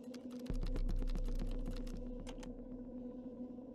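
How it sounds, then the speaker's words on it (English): Rapid, irregular keystrokes on a computer keyboard clatter close up over a steady hum from the machine, thinning out toward the end. "I'm just typing"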